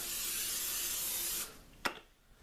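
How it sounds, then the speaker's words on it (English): Cooking oil sprays onto a baking tray in a steady hiss lasting just over a second, then stops, followed by one short clack. "Spray it down with a little cooking oil so none of them stick on there."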